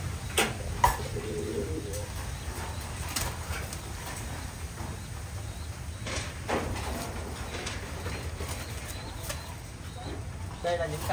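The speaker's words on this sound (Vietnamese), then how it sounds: "Đây là những cặp chim, con này là chuẩn bị vào sinh sản đấy mọi người." Paired domestic pigeons, one ready to breed, give soft, intermittent coos that stay low and fairly faint under ongoing talk and light background clatter.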